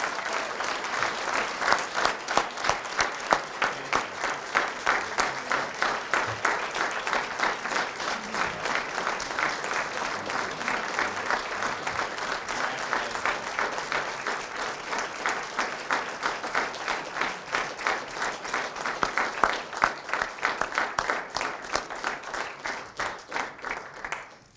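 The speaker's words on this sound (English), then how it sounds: "please celebrate and applaud Madeline Volser for her being a hero of character" Audience at a school heroes-of-character recognition event applauding an award winner, sustained dense clapping from a crowd that holds steady for about twenty-four seconds before dropping off.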